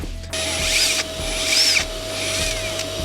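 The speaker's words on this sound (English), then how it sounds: "So that was all the drilling." A power drill whirs in two close, loud bursts, each running about a second, over a steady background hum, while working on a VW Passat.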